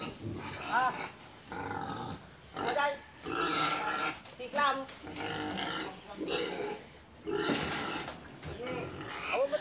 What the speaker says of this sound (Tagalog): Gutom na gutom yung mga baboy po namin.